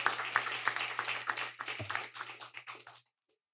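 Audience clapping for a secondary school debate team at a debate competition, a modest scattering of individual claps, fairly close and uneven, that tapers off and stops abruptly, leaving silence.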